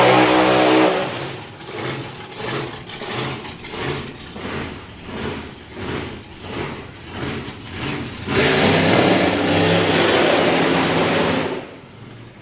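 A drag racing car at Dragstalgia, on its first run since a rebuild, revs in a series of loud pulsing bursts, then accelerates hard in a sustained roar before cutting off.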